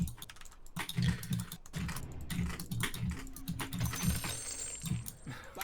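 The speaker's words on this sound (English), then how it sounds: "fucking Ashwin playing puck on the loudest keyboard of all time" Loud mechanical computer keyboard clattering in fast irregular bursts of keystrokes throughout, close and busy, with a faint tone and low background noise during an online Dota 2 gaming session.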